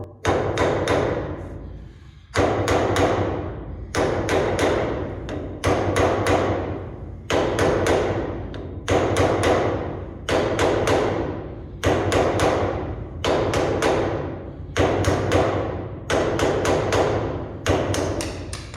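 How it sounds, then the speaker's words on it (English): Body shaping hammer tapping on metal auto body work in a speed shop, a steady series of close, loud repeated strikes in regular bursts, with no talking. "Body shaping hammer, because I don't have a ball peen."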